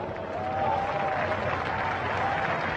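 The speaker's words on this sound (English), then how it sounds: "round of applause for Masashi Yokoi" Crowd applause at a drift event for driver Masashi Yokoi as he stands outside his car, a steady wash of clapping filling the whole stretch at moderate loudness, with a faint tonal whine running through the middle.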